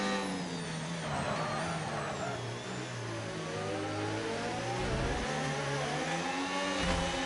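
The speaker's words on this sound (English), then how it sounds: "let's just listen to the braking and the traction now" Onboard engine sound of an F1 car in the F1 25 video game at the Azerbaijan Grand Prix: a continuous high-pitched engine whine shifts in pitch as the car brakes and puts power down, loud and unbroken throughout.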